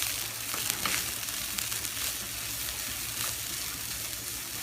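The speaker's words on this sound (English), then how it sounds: "So it gets a little nice and warm and it mixes with the onions, the caramelized onions," Chopped filling warming in a pan with caramelized onions gives a steady, soft, close sizzle that runs evenly throughout with no voices.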